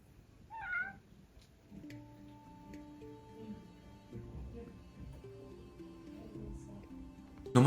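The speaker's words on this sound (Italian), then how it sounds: "Scusate, è entrato il mio gatto." A house cat gives one short, close meow near the start, then a soft background of steady, sustained tones continues without further meows.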